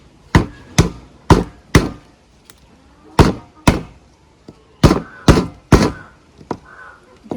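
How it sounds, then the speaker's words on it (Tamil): Cleaned crab legs are lightly tapped to crack the shells, giving about ten sharp, close thuds in an uneven rhythm with short pauses between groups of blows and no talking. "இப்போ நான் இந்த காலை என்ன செய்ய போகிறேன்னு லைட்டாக தட்டி எடுக்கணும்."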